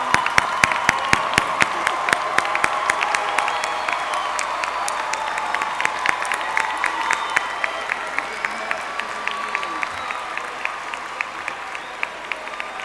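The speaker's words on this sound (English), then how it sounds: "join me in a well-deserved round of applause to thank you for your support" Audience applause at a college commencement ceremony on a campus, a long sustained roar of many hands clapping with scattered cheers, gradually thinning toward the end.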